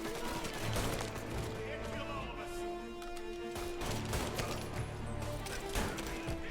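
Gunshots in the video game Mafia: Definitive Edition: sharp shots and a fast volley crack repeatedly over sustained music tones, with someone talking over the firing.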